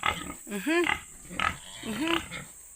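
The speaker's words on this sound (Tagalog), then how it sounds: "Liliguan na natin ang ating baboy." Pigs on a countryside farm in the Philippines, being bathed, let out two close, loud squealing grunts about a second apart, with quieter snuffling between them.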